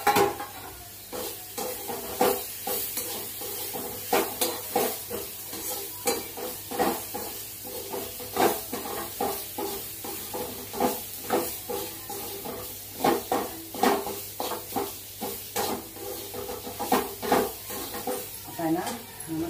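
Gram flour being sautéed in oil for a dried-fish curry, with repeated scraping stirs over a steady sizzle, loud and close, in rhythmic strokes.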